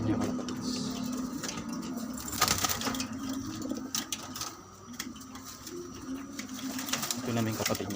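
A pair of pet pigeons coo softly in repeated low, throaty calls close by, while a person talks over them and background noise rises and falls.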